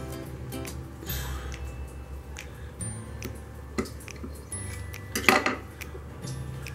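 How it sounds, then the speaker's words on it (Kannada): A knife cuts a block of homemade paneer into pieces, producing scattered light taps and clinks against a plate or pan, close and fairly quiet, with a sharper cluster of clatter toward the end. "ನಿಮಗೆ ಯಾವ ಶೇಪಲ್ಲಿ ಬೇಕೋ ನೀವು ಈಗ ಕಟ್ ಮಾಡ್ಕೋಬೋದು"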